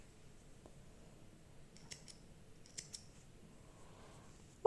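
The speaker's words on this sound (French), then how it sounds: "Et on coupe nos fils." Scissors snip through crochet yarn while finishing a row of an amigurumi Christmas tree, giving a few faint, quiet clicks in a hushed room.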